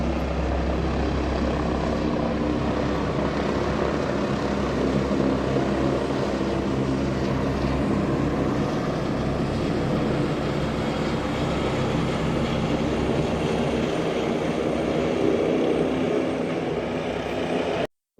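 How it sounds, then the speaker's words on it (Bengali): A powerful speedboat engine roars steadily and loudly for the whole stretch during a water search after a drowning, a constant dense drone with a low rumble that cuts off abruptly at the end. "অনেক পাওয়ারফুল স্পিডবোট, যার ঢেউ দেখে বোঝা যাচ্ছে কি পরিমাণ ঢেউ উৎপন্ন হচ্ছে"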